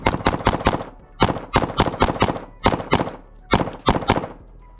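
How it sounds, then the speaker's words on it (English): Rapid bursts of gunfire from a Glock 19 pistol emptying a 15-round magazine at a shooting range, loud sharp shots in quick clusters with brief pauses between them, no talking. "I got a 15 round G19 mag full and we're gonna see how this thing cycles"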